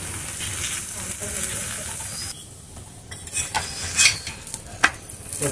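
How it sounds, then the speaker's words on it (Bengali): Raw-potato aloo paratha fries lightly in oil in a pan, giving a soft sizzle broken by clinks and scrapes of a spatula, with sharper pops toward the end. "নিয়ে হালকা হালকা তেল দেবো, আর হালকা করে ভাজবো"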